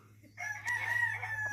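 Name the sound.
rooster crowing on Kauai island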